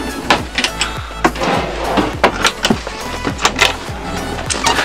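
A drawer in a Rapido 7099C motorhome kitchen is opened and handled, a series of close, sharp wooden clacks and knocks coming in quick, uneven bursts.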